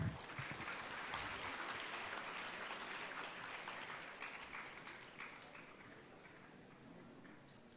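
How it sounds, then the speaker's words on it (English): A conference audience at a student inaugural session applauds in a long, sustained round of clapping that starts full and slowly thins and fades over several seconds, heard from within a large hall. "Can we have a please huge round of applause for them?"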